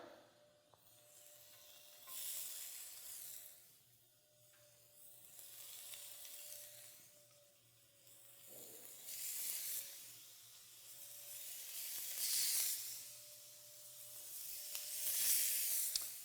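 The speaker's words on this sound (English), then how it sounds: "Nice little sizzle there." Shrimp sizzle steadily in a hot pan, a bright crackling hiss that swells and fades in waves as the food is moved around.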